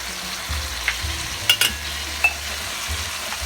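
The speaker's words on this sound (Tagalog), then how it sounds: "lagyan ko na po siya ng sabaw ng tausi" Salted black bean sauce going into milkfish frying in a pan, a steady sizzle with a few sharp clinks of a utensil against the pan.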